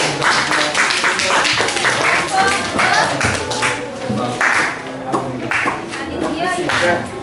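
Students in a classroom clap together after a group discussion on magnets, choppy bursts of hand claps with a tapping rhythm, mixed with voices in the room.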